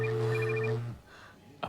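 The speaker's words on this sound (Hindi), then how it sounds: "अगर आप घर पर फोन की घंटी सुन सकते हैं" A home telephone bell rings with a steady electronic trill that holds for most of a second, then cuts off into quiet room tone, with a brief sharp knock at the end.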